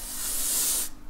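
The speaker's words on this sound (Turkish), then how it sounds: "Bir tane de herhangi bir saç spreyi ya da herhangi bir deodorant" A can of hair spray or deodorant hisses in one steady, close burst onto a raw, unboiled egg, then cuts off abruptly near the end.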